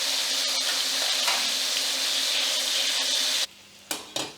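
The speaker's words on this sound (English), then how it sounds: "That's the noise you want to hear. That sizzling noise." Beef sizzles loudly in hot fat in a pan, a dense crackling hiss that cuts off abruptly, followed by a couple of brief scraping sounds.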